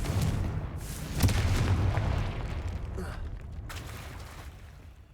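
A Confringo blasting spell explodes in Hogwarts Legacy with a deep booming burst that rumbles and fades over several seconds, with a sharp crack near the start and game sounds mixed in.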